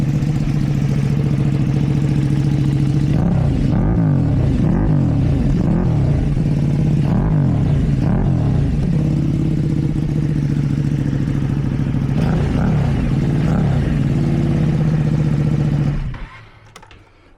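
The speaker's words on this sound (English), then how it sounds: "Sounds more like a motorcycle." A loud, throaty 2024 Ducati Panigale V2 SuperQuadro engine with a raspy aftermarket Akrapovič exhaust idles close by, rising in several revs before cutting off near the end.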